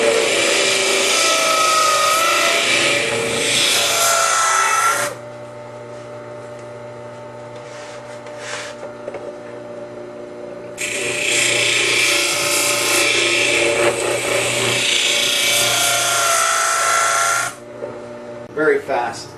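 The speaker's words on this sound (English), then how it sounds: "Very fast to get a nice sharp edge on an axe, splitter, or a maul." Work Sharp 2000KN sharpener grinding the edge of an axe, a loud bright whirring grind in two long bursts with a quieter motor hum between them.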